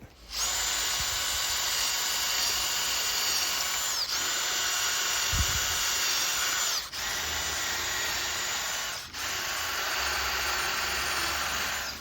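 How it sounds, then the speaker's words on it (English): A power drill with a 7/32 drill bit whines at high pitch in long continuous bursts, briefly pausing between runs, close and loud. "I'm using a 7/32 drill bit."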